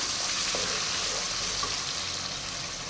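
Tomato pickle fries in hot oil as it is mixed in the pan, giving a dense continuous sizzle with soft stirring underneath and no talk.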